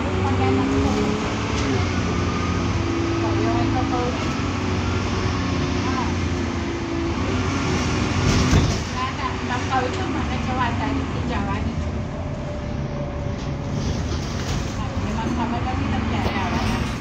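A bus with an Allison transmission on route H25 drones along steadily, with a low engine hum and a gearbox whine rising through shifts. The bus runs continuously for the whole stretch, with a brief bump partway through.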